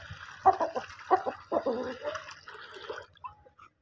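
Water poured into a bowl for pet birds, a few short splashing gurgles and drips in quick bursts, fairly close and soft, fading to quiet at the end.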